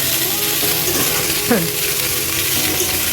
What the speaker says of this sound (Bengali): এবার এই সমস্ত কিছু একসঙ্গে অল্প তেলে রান্না একটুখানি ভালো করে মিশিয়ে নেব